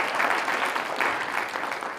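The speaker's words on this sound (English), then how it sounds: "Just an applause right here." Steady audience applause at a university show choir festival awards presentation, a dense wash of many hands clapping in a hall, even and moderately loud for about two seconds.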